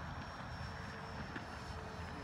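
A Freewing SU-35 model jet converted to an SU-37 flies at a distance, a faint, steady engine hiss and whine sitting under broad outdoor noise throughout.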